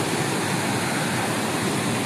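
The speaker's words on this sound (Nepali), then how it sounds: "अब पानी पऱ्यो फेरि" Rain pouring down on a slippery Shivapuri hiking trail, a loud, unbroken hiss of heavy rainfall filling the air with no voices.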